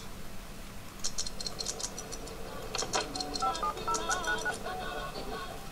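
Rapid electronic dial tones from a telephone in The Sims 2 sound in two quick bursts of beeps over a soft background hum, the tones bright and close.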